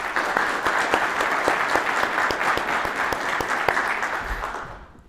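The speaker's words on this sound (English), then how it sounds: "Please join me in giving the award recipients a round of applause." Audience applause for award recipients at a training center graduation ceremony, a dense sustained round of clapping from a large crowd that holds steady for several seconds before fading out at the end.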